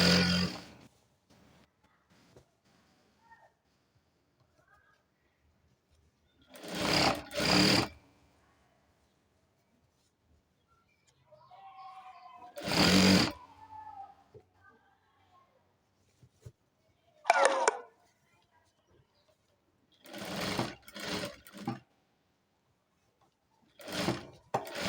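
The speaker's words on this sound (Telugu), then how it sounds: "అదేవిధంగా ఒక స్టిచ్ వేస్తాను." A sewing machine stitching a petticoat runs in short, separate bursts of whirring stitches between silences, close and fairly loud, with a person speaking softly at times.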